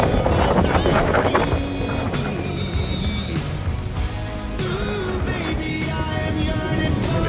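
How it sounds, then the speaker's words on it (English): Strong wind roars steadily across the microphone while sailing off Kas, Turkey, a loud continuous buffeting rush with boat and water noise mixed in, no speech. "30 knots of wind blowing through."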